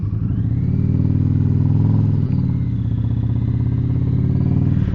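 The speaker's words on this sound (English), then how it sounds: "You know I'm about to put some miles on this Indian Pursuit." An Indian Pursuit motorcycle engine runs loud and close, a steady deep throbbing idle with a faint clatter and a slight dip near the middle, heard alone without talk.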